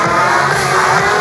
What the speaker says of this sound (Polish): Pobudźcie ich, rozgrzejcie ich swoimi gromkimi brawami.